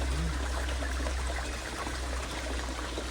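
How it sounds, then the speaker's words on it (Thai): A small stream trickles steadily, a soft continuous wash of running water close by with no voices. "ลำธารเล็ก ๆ อยู่ตรงนี้"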